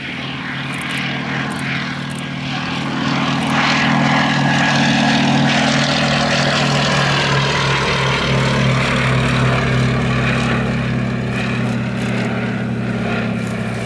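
A Gloster Gladiator biplane comes in to land with flaps down at a WW2 airshow at Old Warden. Its propeller engine drones loudly, swelling as the aircraft nears and then holding steady with a shifting, buzzing tone.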